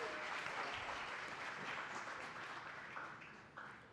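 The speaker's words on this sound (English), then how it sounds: "Give a round of applause for Just Price." Audience applause at a hackathon finalists event: steady clapping from a crowd, fairly close and unbroken, slowly thinning toward the end, with no talk over it.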